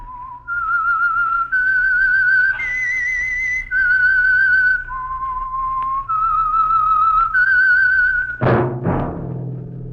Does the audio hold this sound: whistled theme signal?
yes